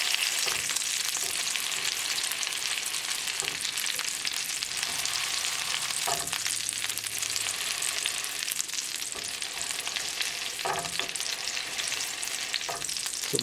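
Lamb chapli kebab patty frying in oil in a pan on a medium flame, a steady, loud sizzle with occasional soft knocks and scrapes.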